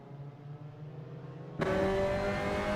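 Simulated Mazda MX5 Cup race cars lapping Laguna Seca in Assetto Corsa: a low engine drone, then an abrupt jump to a loud, bright, high-revving engine roar that holds steady to the end.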